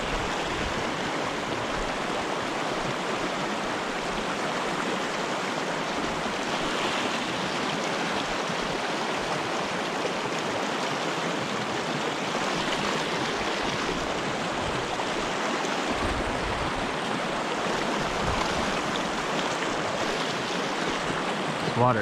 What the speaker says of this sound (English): Water is running fast today.